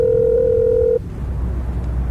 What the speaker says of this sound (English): That's what that ringing noise is in the background there